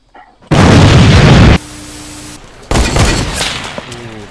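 A C4 charge in Fortnite Battle Royale goes off with a loud, close blast lasting about a second, followed by a quieter rumble and then a second burst of crackling debris and pops.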